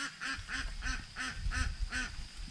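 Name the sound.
ducks quacking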